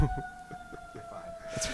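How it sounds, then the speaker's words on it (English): An ambulance siren wailing outside at a distance, a steady tone under room noise during a short stretch. "That's just an ambulance."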